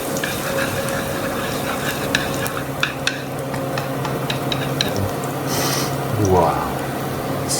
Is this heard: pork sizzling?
yes